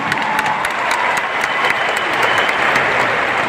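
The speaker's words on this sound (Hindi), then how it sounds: "एक जोरदार तालियां होनी चाहिए।" Dense, loud audience applause fills a large Hindi-language motivational event hall, steady clapping throughout with no gaps.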